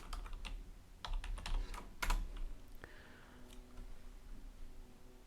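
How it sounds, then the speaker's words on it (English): Fingers type a bash history command on a computer keyboard: a quick, quiet burst of close key clicks, followed by a few scattered taps and a faint room hum. "when we type the command history"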